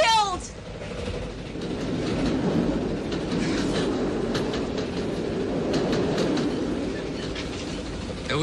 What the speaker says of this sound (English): This train is out of control.